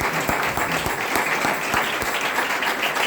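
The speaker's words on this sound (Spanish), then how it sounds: "Aplauda." A church congregation at a Sunday service breaks into steady, dense applause that fills the space, loud and sustained throughout with a few louder claps near the front.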